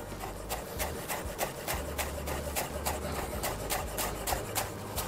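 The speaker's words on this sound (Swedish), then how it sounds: "Det här ska vi nu bara hacka ner väldigt fint." A knife finely chops dill on a cutting board, with quick, regular taps repeating close and clear throughout and no talking.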